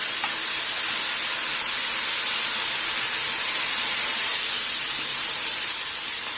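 Garlic frying in a pan with liver, onions and tomatoes gives a steady, continuous sizzling hiss, close and fairly loud, with no talk over it.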